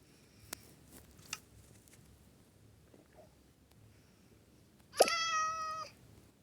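A single clear meow from a cat in a video game sounds near the end, following a few soft clicks in a quiet background.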